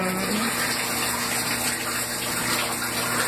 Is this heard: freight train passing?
no